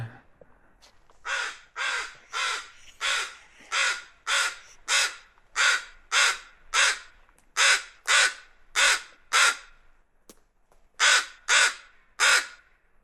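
Crows near their nest at a harbor in Alaska give about eighteen loud, harsh caws in a steady rhythm, spaced roughly half a second apart with one brief pause, close and clear against a quiet background.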